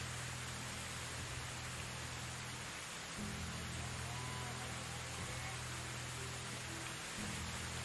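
Steady rain in the medieval survival game Medieval Dynasty, a dense, even hiss of falling water that runs unbroken through the whole stretch, with a faint low background hum beneath it.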